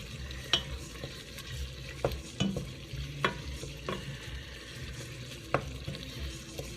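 Food sizzles in a pan sitting in liquid, with a steady soft bubbling fry broken by scattered clinks and scrapes of a utensil stirring, close and moderately quiet.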